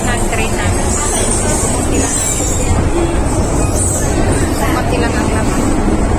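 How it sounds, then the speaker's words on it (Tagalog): A train pulls away from a station, its steady rolling rumble and rail noise filling the clip loudly and continuously, with a faint high squeal over the top. "Alis na ang train namin."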